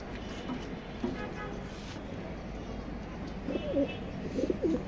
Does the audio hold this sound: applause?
no